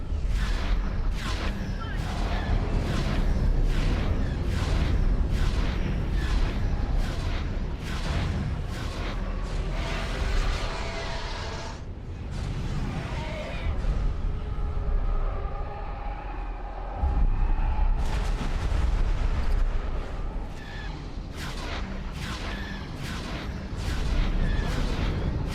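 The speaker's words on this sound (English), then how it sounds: "I think the Venator just has exploded." Heavy rumbling battle din of a Venator starship exploding in a Star Wars space combat game, with repeated booming blasts and sustained low roar across the whole stretch, loud and continuous.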